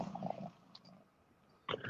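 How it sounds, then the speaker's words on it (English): A cat purrs softly and close by, a faint low rumble that fades out, followed by a brief louder burst of sound near the end. "Oh, I just heard purring."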